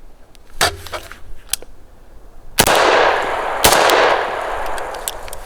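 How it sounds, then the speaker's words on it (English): Sharp, loud rifle shots ring out from a SIG MCX Virtus, one early crack followed by two more about a second apart, each leaving a reverberant outdoor tail. "shoot a couple more rounds"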